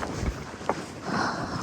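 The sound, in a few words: wind at Kazakhstan canyon stairs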